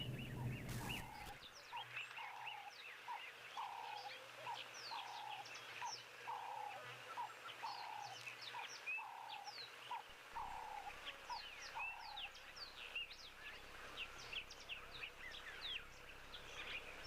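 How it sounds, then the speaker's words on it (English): Cape turtle doves call repeatedly in a rhythmic series of soft, regular coos, moderately distant in quiet open bush, with a brief low hum at the start and no speech. "So Cape turtle doves"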